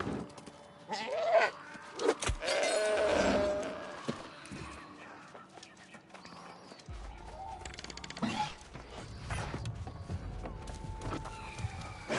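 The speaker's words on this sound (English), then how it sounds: "Really? A sheep?" A sheep bleats a few times in a video game (New World Aeternum) against a dense, noisy background with creaks and thuds, the calls fairly close and mixed into the clutter.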